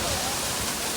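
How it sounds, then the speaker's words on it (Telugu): A small waterfall along the road from Shillong to Cherrapunji makes a steady, broad rushing hiss that fills the short moment evenly, with no gaps. "ఇక్కడ ఒక వాటర్ ఫాల్ ఉంది చిన్నది"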